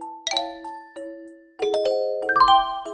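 A bright electronic ding-dong correct-answer chime in a children's educational cartoon, ringing as a short series of clear bell-like tones, rising in pitch and growing fuller toward the end, with no talking.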